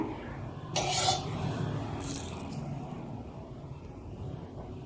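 Hands knead flattened rice (aval) dough with curd and oil in a bowl, making soft, squishy rubbing and scraping that swells early on, then settles into a steady, muffled working sound.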